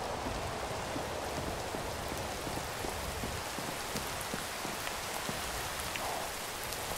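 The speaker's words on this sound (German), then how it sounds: "Hier regnet es noch durch." Dense, steady rainfall in Minecraft patters on a surface with a constant hiss, uniform and unbroken from start to finish.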